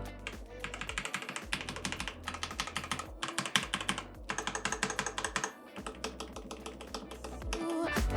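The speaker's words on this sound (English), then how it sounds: "Then I switched them out for the 𝗛𝘀𝗵𝘀 Pros, and here is how they sound." Inexpensive mechanical keyboard fitted with new switches, typed on steadily at close range in quick clacking runs with brief pauses.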